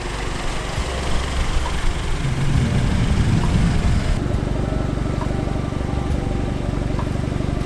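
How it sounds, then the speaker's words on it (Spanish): Stock exhaust of a 2020 VW Polo GTI AW without a particulate filter, a steady loud engine drone that swells briefly before settling into an even idle-like rumble, heard alone. "en este vídeo vais a ver el escape con este Polo, no tiene filtro de partículas"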